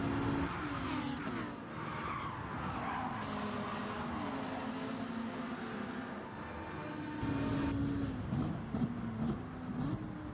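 Race cars in a Gr.4 daily online race in Gran Turismo 7 roar together at close range, engines droning steadily with brief tire squeal as they take a chicane, one car running alongside on the inside.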